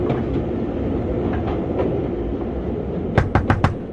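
Radio-drama sound effect of a train running on rails: a steady, loud rumble of wheels and carriage, with a quick run of sharper rhythmic clacks near the end and no voices.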